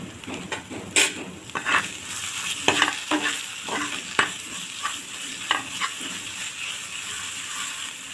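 Spice paste with chilli powder is sautéed and stirred in a pan for a koi fish curry. The steady sizzle runs throughout, broken by repeated clinks and scrapes of a spoon against the pan, and no voices are heard.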